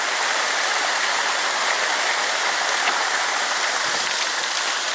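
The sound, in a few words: waterfall and mountain stream on the Yassy (Aksay) river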